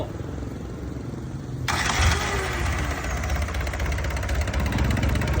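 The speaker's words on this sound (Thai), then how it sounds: "เดี๋ยวติดเครื่องให้ชมครับสโล" Isuzu 4BG1 four-cylinder diesel with an inline injection pump, rated 125 horsepower, cranks and catches, then settles into a loud, rough, clattering idle heard close by.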